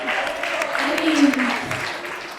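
An audience at a Christmas event claps in a brief burst of applause, steady and fairly close, with a speaking voice over it.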